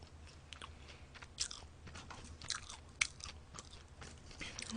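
Crunchy potato fries being bitten and chewed up close, with sharp crisp crunches recurring irregularly over a low steady background, no talking.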